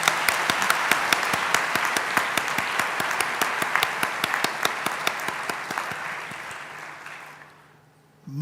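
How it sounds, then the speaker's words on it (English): An audience at a student recognition awards ceremony applauds loudly, a dense sustained wave of clapping with sharp rhythmic claps standing out, gradually thinning and fading away near the end. "Let us collectively then applaud loudly now."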